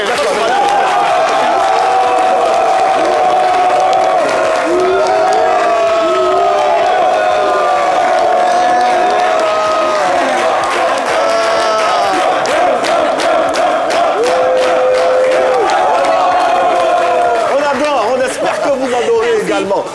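A studio crowd at a French-language TV talk show cheers and whoops loudly, with applause building toward the end, while a host's voice carries over the noise.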